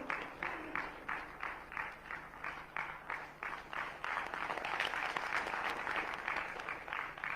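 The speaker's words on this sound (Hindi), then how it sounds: "अरे तालियां मारी यार" An audience at a customer scheme meeting claps, starting in rhythmic bursts and then swelling into continuous, dense applause.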